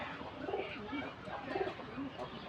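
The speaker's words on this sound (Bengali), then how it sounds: "এই কবুতরগুলো দেখে অনেক ভালো লাগতেছে।" Domestic pigeons coo in a netted loft, low rolling calls repeating every half second or so at close range, with faint human talk in the background.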